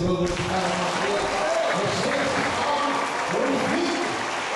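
A church congregation applauding steadily and loudly throughout, a dense continuous wash of clapping with some voices mixed in.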